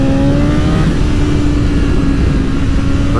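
A 2024 BMW S1000XR sports tourer motorcycle accelerates hard under a rider, its engine note climbing steadily in pitch over loud, continuous wind rush, with no talk.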